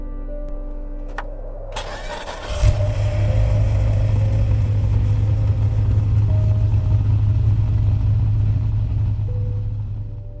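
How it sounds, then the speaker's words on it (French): A car engine cranks and catches with a sharp start, then settles into a steady, loud idle rumble that holds close and continuous, like a car being started for a drive home. "démarra sa voiture pour rentrer"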